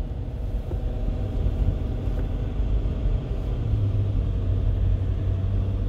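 A car climbs the road up Cadillac Mountain, heard from inside as a continuous low rumble of engine and road noise that holds moderately loud throughout, with a rising engine drone toward the end and no speech.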